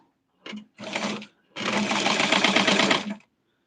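A sewing machine stitches a Barbie doll dress in three close bursts, a quick short run, a slightly longer one, then a steady stretch of rapid mechanical chattering before stopping.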